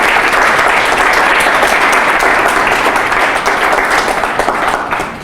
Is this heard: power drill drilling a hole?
no